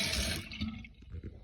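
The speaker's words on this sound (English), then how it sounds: "what I do to keep them fresh is I soak in water" Water poured over carrots to soak them in a vegan meal-prep kitchen gives a brief, close rushing splash that fades within half a second into faint drips and clatter.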